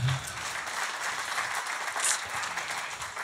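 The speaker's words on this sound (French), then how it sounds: "on peut l'applaudir aussi" Church congregation applauding together, a steady even wash of clapping from a room full of people that carries on throughout at moderate level.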